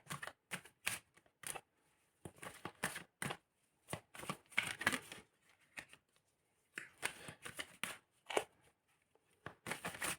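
Osho Zen tarot cards being shuffled, a run of crisp riffling and slapping bursts in irregular clusters with short pauses between, close and fairly loud, no talking.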